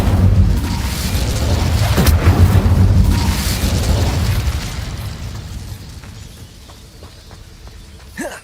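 An Incendio fire spell is cast in Hogwarts Legacy, a loud roaring burst of flame that sustains for about four seconds, then fades into a quieter tail with a small pop at the end.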